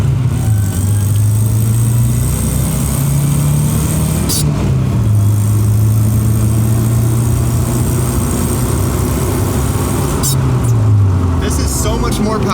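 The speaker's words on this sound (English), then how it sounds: "we're gonna do a 0 to 60 at like half throttle just to see how it does" A Toyota 4Runner with a swapped 3RZ engine accelerates at half throttle, engine drone climbing through gears with audible shift dips, heard from inside the cabin over a constant road and wind roar.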